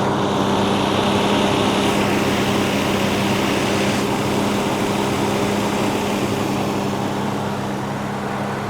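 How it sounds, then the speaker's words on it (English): Ford Capri 280 Brooklands engine idling with slight tappet noise from the top end, a continuous steady mechanical hum heard up close and alone throughout. "There's a tiny little bit of tappet noise from the top of the engine."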